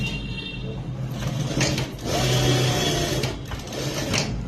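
Sewing machine running steadily as it stitches along the border of a felt puff sleeve, a continuous close whirring with slight pauses and surges in speed, no talking.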